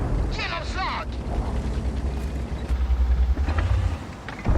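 A tank cannon fires in World of Tanks, landing a hit on an enemy's rear during a battle. A booming blast and rumble come under battle noise, with someone talking over it.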